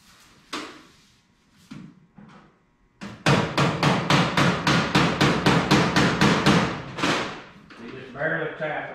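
A hammer taps the nose of a dirt late model chassis: a few scattered knocks at first, then a rapid run of about a dozen loud, evenly spaced metallic hits close by, ending in fainter rattling.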